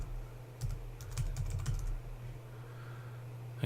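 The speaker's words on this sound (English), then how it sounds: "Then type the name of the plugin in the search box" Fingers type on a computer keyboard in a quick burst of light clicking keystrokes over a steady low hum, then stop, leaving only the faint background drone.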